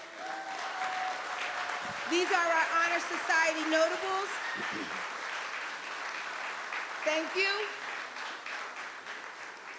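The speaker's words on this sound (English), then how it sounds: "Let's cheer these honorees on." An audience at a Black Hall of Fame ceremony applauds and cheers Honor Society honorees, sustained clapping with a few whoops while a host speaks over it through a microphone.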